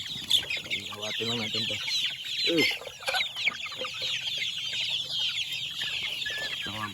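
Young chicks cheeping in a rapid, continuous high chorus, close by and fairly loud, with someone talking briefly over them.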